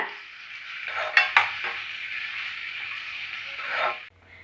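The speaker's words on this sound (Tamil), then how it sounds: "வெங்காயம் நல்லா கோல்டன் ஃப்ரை ஆகிற வரைக்கும் வதக்கி விட்டுட்டே இருங்க." Onions sautéing in a pan for quail biryani: a steady sizzle with a couple of sharp metal spoon-on-pan clanks and scraping stirs, close up, ending abruptly.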